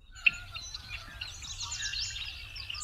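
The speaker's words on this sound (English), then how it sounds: "a red-winged blackbird makes a conkeree when they air, conkeree" A male red-winged blackbird gives its buzzy conk-la-ree call outdoors, with a sharp opening note followed by trilling chirps over faint low background rumble, moderately close and with no talking.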